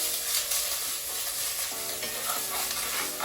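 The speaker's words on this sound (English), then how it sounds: "Now the garlic and ginger won't take very long because you don't want it to burn, so just give that a wee start off in the oil" Garlic and ginger sizzle steadily in hot oil in a pan, a loud, dense crackle that runs unbroken throughout with soft stirring and no talk.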